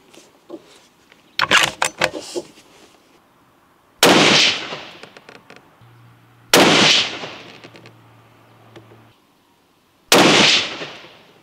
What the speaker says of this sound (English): We're going to shoot the same target and we'll just see what happens here.